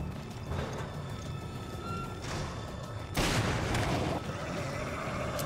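A magnum revolver being reloaded in Resident Evil Revelations: a series of mechanical clicks and metallic clatter, with a louder burst midway, over steady game ambience.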